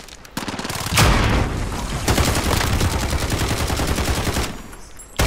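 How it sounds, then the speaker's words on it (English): Sustained automatic AMAX rifle fire in the shooter game Modern Warfare, a loud rapid rattle of shots running nearly continuously for several seconds with brief pauses, close and dominant. "Oh my god, this gun sounds amazing."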